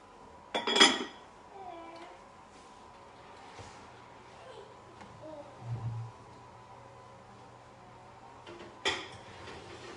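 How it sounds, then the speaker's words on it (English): A lid set onto a casserole dish before it goes into the oven, heard as a short ceramic clink and rattle near the start, a quieter scrape later and another clink toward the end, close and fairly soft in a quiet kitchen. "Oh, but I need to cover it, so I'll put the lid on."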